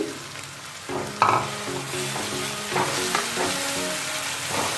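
Spinach dropped into a pan of frying spice paste for palak paneer, a loud continuous sizzle with stirring scrapes and clinks over it, close up.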